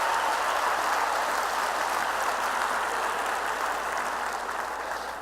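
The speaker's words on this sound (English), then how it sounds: "Let's give Jonathan and Everett a big round of applause" A crowd at a teacher appreciation event applauds in a dense, continuous roar of clapping that holds steady before easing off slightly at the end, with no speech over it.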